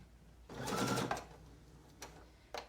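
A sewing machine stitches through bulky fabric backed by cardboard in one steady, near and fairly loud run of under a second. Two brief, fainter mechanical clicks follow it.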